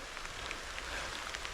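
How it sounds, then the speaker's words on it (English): Light rain falling steadily outdoors in rural Japan, a soft continuous hiss with faint scattered drop ticks, fairly quiet and close, with no voices. "I'm working in the rain."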